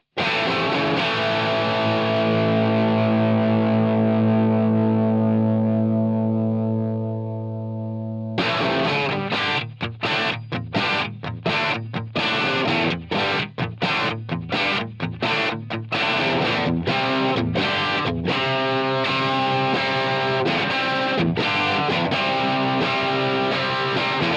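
A sustained, heavily distorted electric guitar chord rings out through an HX Stomp, then gives way to tight, compressed rhythmic strumming with the guitar volume rolled to about 7, with sharp, even stops between strokes.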